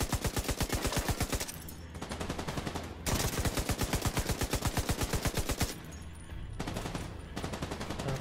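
Rapid automatic gunfire in The Division 2, loud, close bursts of dense repeated shots broken by short pauses, with combat noise filling the gaps and no talk.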